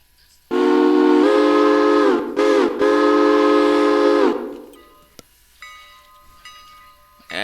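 A loud, sustained steam train whistle in the video game Railroader blows in long chord-like blasts with a brief break, then fades to quieter mechanical hissing and clanks as the train departs.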